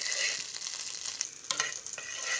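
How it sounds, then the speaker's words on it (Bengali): Neem and moringa leaves fry crisp in oil in a kadai, giving a close, bright, continuous sizzle with a few sharper crackles and spits and no voices. "আমি পাতাগুলো, নিম পাতা আর সজনা পাতাটা আমি ভেজে নেব। ক্রিস্পি করে ভাজবেন।"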